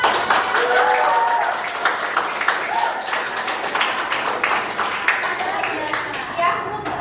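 Classroom applause from a group of teachers and students, a steady wash of clapping that runs throughout with voices talking over it.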